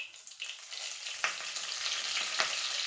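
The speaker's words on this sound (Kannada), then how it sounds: "ಇವಾಗ ಸ್ವಲ್ಪ ಚಟ ಅನ್ನಬೇಕು. ಚಟ ಅನ್ನಕತ್ತು. ಸಾಸಿವೆ ಕಾಳು," Mustard seeds crackling and popping in hot oil for a Karnataka-style pundi palya (sorrel leaf stir-fry) with garlic, a steady close sizzle punctuated by a few sharp pops, with no talking.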